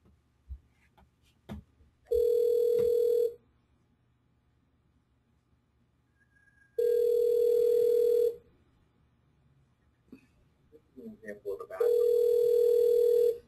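Telephone line tones in a recorded business phone call: three long steady electronic ringback tones separated by pauses, with faint clicks and a little background voice activity between them.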